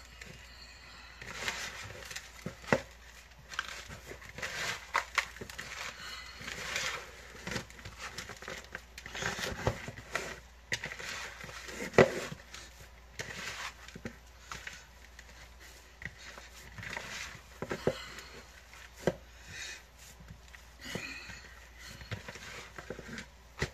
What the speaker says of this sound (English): And then you're gonna just mix it on in.